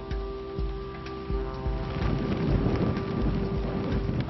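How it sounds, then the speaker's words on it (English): Icy rain and gusting wind on a mountainside in the Andes, a steady close roar of rain with buffeting low wind thumps that swell louder partway through, no voices. "And filming in the icy rain caused all sorts of problems."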